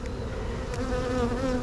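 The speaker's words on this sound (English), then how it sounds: "A lot of bees inside the cage with her" Honey bees buzz densely around a queen cage during a large bee rescue, a close, continuous drone with a tone that wavers and rises slightly, with no voices.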